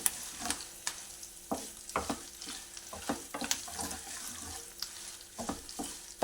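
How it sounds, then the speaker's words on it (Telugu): About ten dried red chillies frying in hot oil for a tomato pickle, giving a steady low crackle broken by scattered stirring scrapes and small pops, close and fairly quiet, with no voices. "ఒక 10 ఎండుమిరపకాయల దాకా వేసుకున్నానండి"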